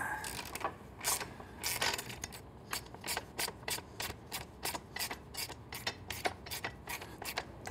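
A ratchet with an 8mm Allen hex bit works a bolt loose on a Triumph Street Twin motorcycle, giving quiet, close bursts of rapid clicking that repeat in a steady back-and-forth rhythm.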